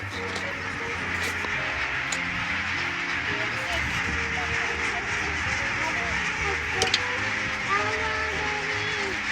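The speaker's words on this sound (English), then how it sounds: "Oh wow, look at all these birds" A large flock of geese or ducks honks and quacks continuously at a distance in an arctic winter setting, a dense overlapping chorus with people talking over it.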